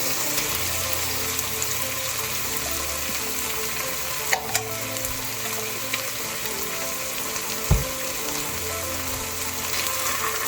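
About two tablespoons of squeezed garlic sizzles in a hot pan for a zucchini lasagna, a steady close frying hiss with a few faint clicks and no talking.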